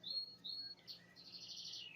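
Birds chirp outdoors in a few short, high, bright calls followed by a longer trilling phrase, faint and at a distance, with no talking over them.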